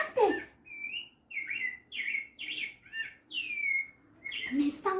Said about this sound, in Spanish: Los pájaros me están contando que hay animales que nacen de huevos